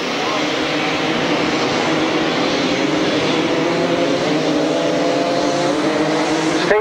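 Grasstrack racing motorcycles roar away together from the start line in 1992, a loud, dense, sustained engine drone with rising revs and a commentator talking over it.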